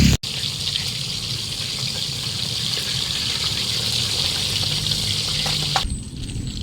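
Spring water rushes and splashes continuously at close range, a steady gushing flow with no voices.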